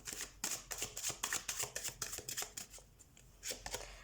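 Tarot cards are shuffled by hand in quick, rhythmic riffles and flicks, a dry papery patter repeating close to the listener and fairly quiet, with no voice over it.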